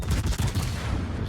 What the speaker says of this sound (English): Those are shots.